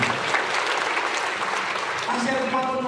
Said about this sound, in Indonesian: Kita tepuk tangan dulu yang paling meriah.